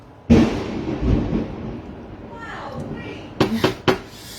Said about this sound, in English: We're having a lightning storm up here.